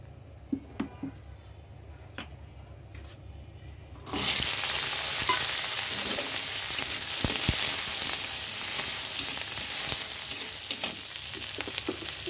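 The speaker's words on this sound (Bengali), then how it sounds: "এখন কড়াইতে ধনিয়া পাতা প্রথমে টেলে নিব, হালকা পরিমাণ তেল দিয়ে দিচ্ছি।" Coriander leaves in a wok with a little oil: a few sparse clicks and taps, then a sudden loud, continuous close sizzle that holds steady with occasional crackles.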